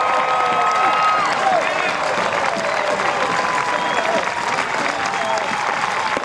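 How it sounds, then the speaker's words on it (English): Minor league baseball crowd on its feet at a 1999 Atlantic City Surf vs Somerset Patriots game, clapping steadily in a dense, continuous wash with scattered cheers, loud and sustained throughout. "the fans on their feet clapping."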